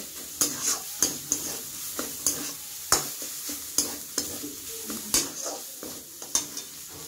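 Chicken patty filling stirred and mixed in a pan, with rhythmic spoon scrapes and clicks against the metal over a light, continuous sizzle, close up and with no speech.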